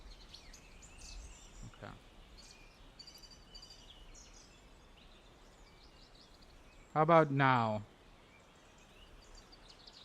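Birds chirp faintly in the background with scattered high tweets throughout, while a person speaks briefly and more loudly partway through.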